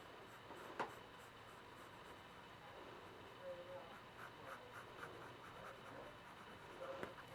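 A pencil sketches loosely across paper while figure proportions are drawn, giving a faint, soft scratching that stays close and continuous, with an occasional sharper tap of the lead.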